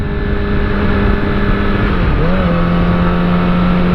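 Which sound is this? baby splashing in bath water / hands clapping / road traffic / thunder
road traffic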